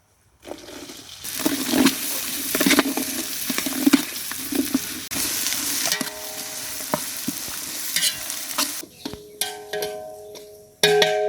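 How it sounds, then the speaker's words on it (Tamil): Small onions with crushed garlic sautéing in a pan for a traditional tuna fish dish, a steady close sizzle and frying hiss with stirring scrapes throughout, easing briefly near the end. "மாப்பிள்ள நல்லா வதங்கட்டும்"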